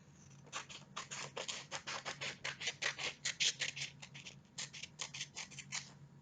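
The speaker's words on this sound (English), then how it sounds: "all I do is cut the rectangle off the bottom" Scissors snipping a paper rectangle off a sheet, a quick run of about twenty crisp, rhythmic cuts at close range with a short pause near the middle.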